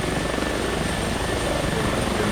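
Steady, close rotor and turbine drone of an H145 helicopter in the X-Plane 11 flight simulator game, a continuous dense whirring throb with no talk.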